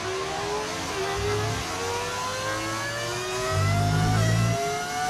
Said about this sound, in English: Oh, does it sound like a V6 V8 engine? It's actually a V10 engine.